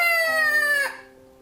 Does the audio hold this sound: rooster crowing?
yes